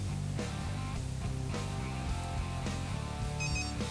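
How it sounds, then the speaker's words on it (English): A Tekin RC electronic speed control sounds its confirmation chime after its data logs are erased, a run of steady electronic tones ending with a short, higher beep. "that chime right there means that our data logs have been erased"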